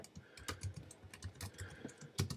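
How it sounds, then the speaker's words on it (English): Rapid, uneven keystrokes clatter on a computer keyboard while an HTML document is typed, close and clear, with a few louder key presses in short bursts. "typing doc type"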